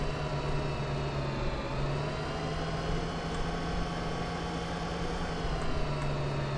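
Steady drone of a tractor engine driving in the video game Farming Simulator 2013, a constant mid-pitched hum holding even throughout at moderate volume, with no talking.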